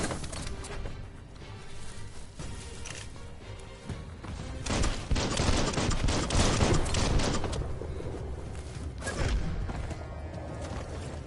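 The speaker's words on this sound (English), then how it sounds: "Bullets everywhere." Video game gunfire in Biomutant on a base PS4: dense volleys of shots and thuds crackle in a continuous barrage, swelling louder in the middle and trailing off into scattered bursts.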